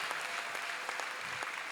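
A church congregation applauds during a sermon, quiet, continuous clapping heard from a distance, with scattered sharper claps rising out of the wash.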